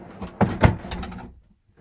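Drawers slide open and shut in the kitchen area of a 2011 Four Winds Majestic 19G RV, a few quick close knocks and rattles in a brief burst before quiet.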